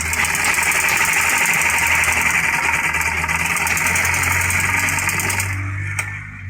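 A sewing machine stitches a trouser back pocket with a loud, close, rapid mechanical whirring and chatter that runs continuously before tapering off at the end.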